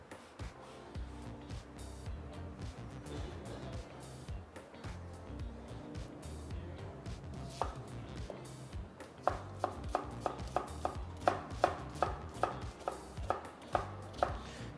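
Knife finely chopping onion on a cutting board, a run of quick close taps that grows sharper and more regular toward the end, with a low background hum and no talking.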